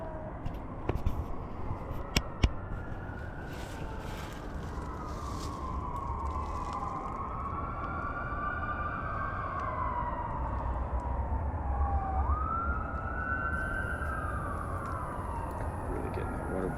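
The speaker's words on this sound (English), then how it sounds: "Do you hear all those sirens?" Wailing emergency vehicle sirens rise and fall continuously in the distance across a city, layered over steady background rumble and some faint activity nearby.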